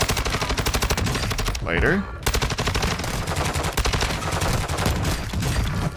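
Rapid automatic gunfire rattles continuously in Warzone 2 gameplay, loud and close, broken by a brief pause before the dense volley resumes, with a player's voice heard briefly.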